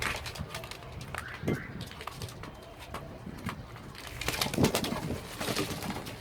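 Soft cooing of a pigeon with bursts of wing flapping, recorded close up on a balcony with faint background murmur.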